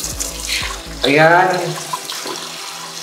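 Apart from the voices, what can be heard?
bathroom sink faucet running water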